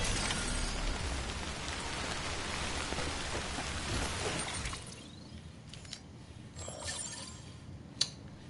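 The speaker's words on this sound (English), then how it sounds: "Wait a minute. It's raining." Heavy rain pours in the video game Death Stranding on PS4, a loud steady wash that drops off sharply about halfway, leaving quieter patter with a few sharp cracks and clicks.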